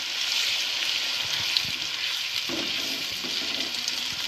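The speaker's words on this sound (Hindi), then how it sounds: "4 टमाटर मैंने बड़ी साइज़ के लिए थे, और अब इसको अच्छे से फ्राई करेंगे।" Four large tomatoes fry in a pan for chicken kachnar curry, making a quiet, steady sizzle with a few soft stirring knocks and wet bubbling toward the end, with no talk.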